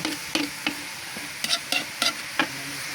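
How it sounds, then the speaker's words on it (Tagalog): Coconut milk from the first pressing poured into a pot of santol and taro, heard as a series of short liquid stirring and sizzling bursts at a steady, uneven rhythm, close and moderately loud, with no talk. "Lalagyan ko na yan ng pinakang gata niya."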